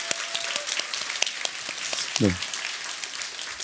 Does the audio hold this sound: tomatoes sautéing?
no